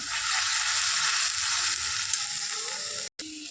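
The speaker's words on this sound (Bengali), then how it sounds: "দেখো মশলা কষাচ্ছি একটু মশলা কষিয়ে দিলাম" Spices and turmeric sauté in a hot pan with a loud, even sizzle and light stirring, broken by a split-second gap near the end.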